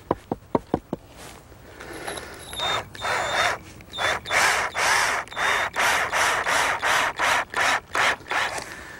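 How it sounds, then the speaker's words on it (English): A power driver sinks screws into 2x6 pressure-treated lumber framing a gazebo floor, starting with a few sharp knocks and then a long series of rhythmic, grinding bursts, close and loud. "And I'll fasten them with some screws."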